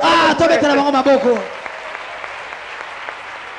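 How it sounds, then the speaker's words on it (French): Church congregation breaks into applause at a wedding-themed sermon, a voice speaking briefly at first before the steady clapping carries on alone, fairly loud and even. "Acclamons pour elle."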